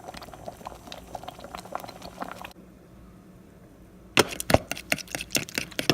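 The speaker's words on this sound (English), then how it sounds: "let it come back to a boil" Grits bubbling in a pot make a close, soft popping and plopping, which stops for a stretch and then comes back with louder, more frequent bursts. No voices are heard.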